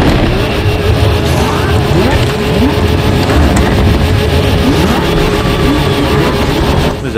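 A Lamborghini engine in the video game The Crew Motorfest roars loudly and continuously, revving with rising and falling pitch, with rushing wind noise and no one speaking.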